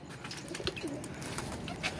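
Several pigeons, including fancy feather-footed breeds kept by a hobbyist, coo softly in a steady, close background murmur with a few brief brighter calls and no talking.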